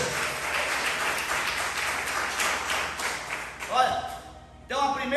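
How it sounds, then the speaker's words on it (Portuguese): Church congregation clapping during a sermon, a continuous wash of applause for nearly four seconds that breaks off, followed by a raised voice speaking over a brief return of sound. "Dê uma grande salva de palmas para o Senhor Jesus."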